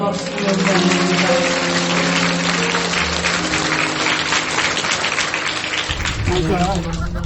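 A pilgrimage group on a Bible-history tour in Greece breaks into dense, steady applause that fills the whole stretch, with voices and a sustained musical tone carrying over the clapping.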